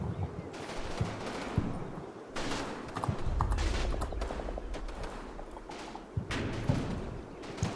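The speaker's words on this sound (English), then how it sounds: "Looks like a light mortar." Light mortar and small-arms fire in a World War II video game, with repeated thumping blasts and crackling bursts rolling through the scene at a steady, fairly loud level.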